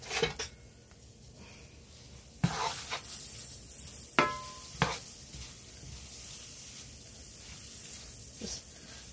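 Food fries in butter in a pan with a faint steady sizzle, broken by a few sharp clinks and scrapes from stirring.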